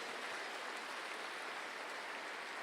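A large audience of couples at a marriage and health gathering claps in a dense, even wash of applause that stays faint and distant throughout.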